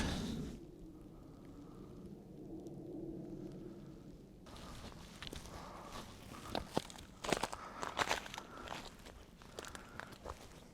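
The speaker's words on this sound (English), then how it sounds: "Just watching my footing. It's a mixture of like rocks and sand on this bit." Footsteps crunch and scuff over a mix of rocks and sand on a wet wild-camping walk, a steady, close rhythm of gritty steps that grows louder and sharper toward the end.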